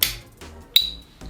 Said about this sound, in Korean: 뻥 소리 난다고 해서 듀뽕 라이터.